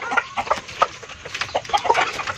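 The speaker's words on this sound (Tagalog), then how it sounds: "Ayan yung mga manok natin" Chickens cluck in quick, irregular bursts close by, several birds overlapping in short choppy calls.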